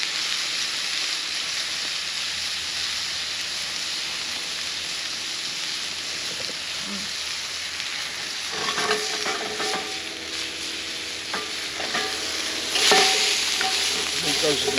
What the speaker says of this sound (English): Meat brown.